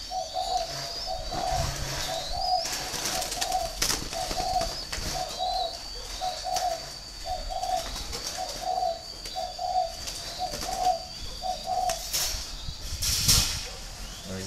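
Spotted doves kept as cage birds coo in a regular repeating rhythm, close and clear, over a hissy background with occasional handling noises.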